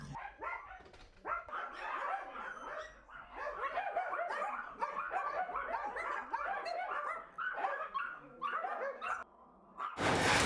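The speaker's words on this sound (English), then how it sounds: "They just bark. They're just happy to see company." A litter of puppies barks and yips excitedly in a crowded home rescue, sharp overlapping barks continuing steadily at close range, with a brief burst of noise at the very end.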